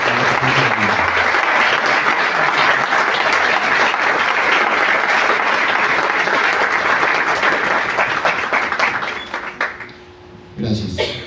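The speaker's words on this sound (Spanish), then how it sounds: "Nuevamente un aplauso para el doctor Enrique Argüelles, quien está atento a la pregunta." Sustained, loud audience applause at a book presentation, dense clapping filling the room for about ten seconds before thinning and breaking up near the end.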